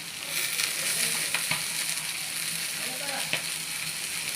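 Garlic cloves and onion fry in a pan with a dense, steady hiss and a few faint clinks and scrapes, heard close and without talk.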